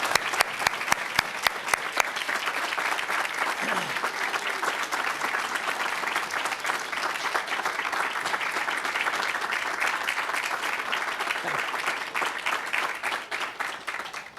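Graduates at a college commencement ceremony give their families a long round of applause, dense sustained clapping from a large crowd that fills the hall with sharp individual claps at the start, steady throughout before tapering slightly at the end.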